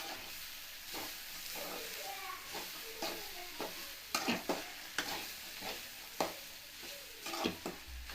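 A spatula stirs small bitter gourds frying in a pan over a low gas flame, with repeated scraping strokes over a steady soft sizzle.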